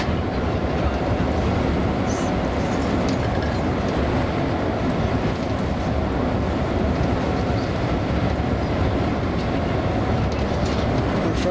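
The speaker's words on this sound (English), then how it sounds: "There's a train to come along those rails that will make it really perfect." A train runs along rails in the north of Scotland, a steady, fairly loud rumble of wheels and carriages with a continuous low roar and no talk.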